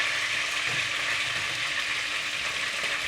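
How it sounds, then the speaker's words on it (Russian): Garlic fries in a pan with chicken, giving a continuous, close sizzle with steady crackling and no speech over it. "Мы сюда же и добавим чеснок. Он и здесь замечательно обжарится."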